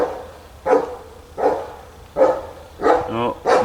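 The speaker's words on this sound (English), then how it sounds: "my dog, or his dog, is going to do the anxiety bark, or the exciting bark" A dog barks five times at a steady pace, sharp and fairly close, each bark separated by brief quiet, the last pair coming quicker with some whimpering tone, sounding anxious or excited after a neighbor leaves.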